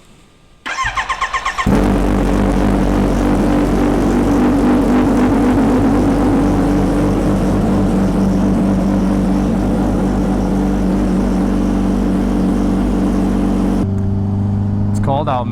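Kawasaki Ninja H2R supercharged motorcycle engine after repairs, starting with a short cranking burst then settling into a loud, steady close-up idle with a deep throb, cutting off near the end.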